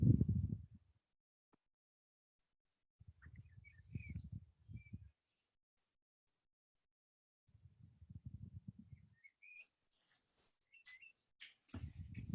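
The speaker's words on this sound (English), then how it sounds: "Graham, is that your country residence with the birds cheeping in the background?" Birds cheep outside a country house in faint, scattered chirps, broken by a few dull low thumps of noise nearby.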